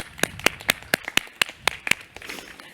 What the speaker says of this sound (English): I just want to give you a round of applause.